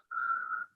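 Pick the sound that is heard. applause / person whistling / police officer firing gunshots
person whistling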